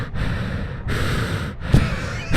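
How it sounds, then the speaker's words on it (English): Heavy breaths blown straight into a handheld microphone, three long, rough, close-up rushes of air with brief pauses between them and a soft thump. "You're just breathing into it."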